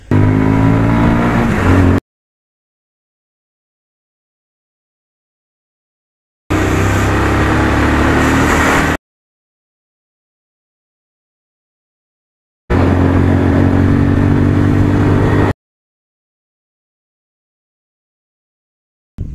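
Bajaj Pulsar 150 twin disc motorcycle exhaust note revving in three separate loud bursts of a couple of seconds each, divided by silent gaps.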